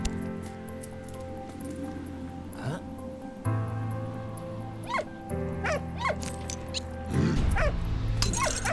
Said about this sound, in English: I saved a puppy.